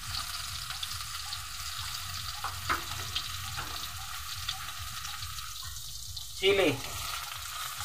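Garlic, ginger and onion sizzle and fry together in a pan for chicken sarsiado, a steady crackle throughout with a brief clatter near the end and a short spoken word.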